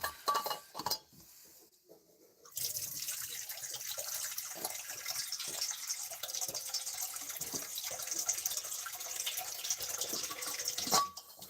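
Water running from a tap to refill a container, a steady rushing stream that starts after a few clinks and knocks and continues at moderate level.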